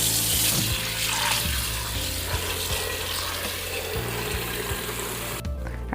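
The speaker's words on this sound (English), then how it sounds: "So into the pot, I'm gonna fill it with cold water" Cold tap water pours steadily into a cooking pot, a continuous close rushing splash that thins out just before the flow ends.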